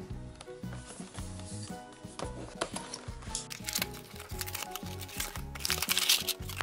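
Packaging of a second-generation motion-sensing 15W car wireless charger mount is opened, with rapid close crinkling and rustling of plastic and paper that grows busier and brighter toward the end.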